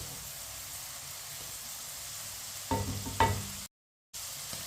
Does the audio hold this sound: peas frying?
yes